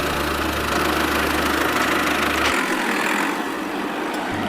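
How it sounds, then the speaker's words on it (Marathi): A mini tractor's engine idles with a steady low chugging hum that cuts out for a couple of seconds and then picks up again near the end, heard close and alone. "ट्रॅक्टर कोणाचा आहे?"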